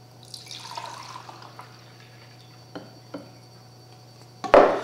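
Beer pours into red Solo cups in a soft, gurgling stream that trickles off into a few drips, followed by a brief, louder splash up close.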